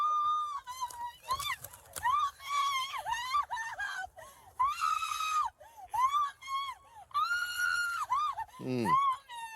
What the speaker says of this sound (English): All that unnecessary screaming for no reason.